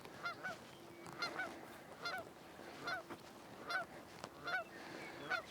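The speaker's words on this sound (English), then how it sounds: "I have a feeling these geese are going to keep flying out ahead of me" Geese in flight ahead on a nature trail near Bozeman, honking in a steady repeated series roughly once a second, clear and moderately distant with no talking.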